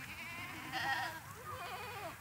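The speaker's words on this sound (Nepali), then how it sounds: "बाख्रा त छ यहाँ त अब 40 त होला 40 बाख्रा छ" Goats from a herd of about forty kept by an elderly woman in rural Nepal, a single near bleat rising briefly over a quiet background, no talk.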